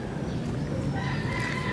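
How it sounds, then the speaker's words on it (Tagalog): Village chickens cluck and a rooster crows nearby in a rural Philippine province, a short, busy burst of fowl calls over steady outdoor background noise. "Tingnan nyo yung mga manok guys."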